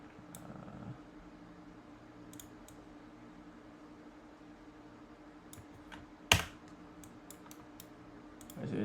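Sparse, quiet clicks of a computer keyboard in a quiet room, with scattered keystrokes, one sharper tap near the end and a faint low background hum.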